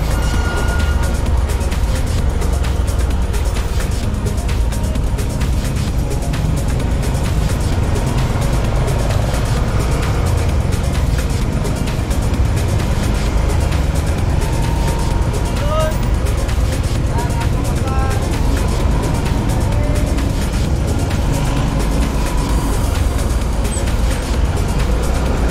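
Dense city traffic around the Tanah Abang area of Jakarta, heard from a moving motorbike: a steady loud roar of engines and road noise with passing vehicles, while a person talks over it.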